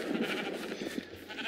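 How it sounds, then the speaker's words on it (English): Sheep bleating in a video game, a few short wavering calls repeating over a steady low background hum, fairly close and clear, with no voices. "There is a sheep walking around."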